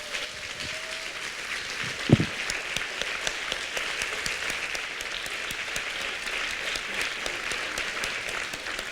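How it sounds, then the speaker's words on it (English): Evening audience applauding artist Tang Da Wu at an exhibition talk, even sustained clapping from a moderate crowd with one sharp knock early, steady and fairly near. "we should give him a very big round of applause"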